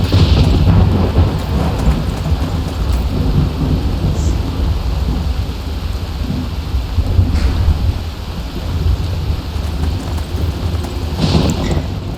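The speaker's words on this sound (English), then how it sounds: "Lightning!" A thunderstorm with rain in a video game set in Winterhold: a steady, dense roar of rainfall with low rumbling thunder swelling and rolling throughout, loud and continuous with no voices.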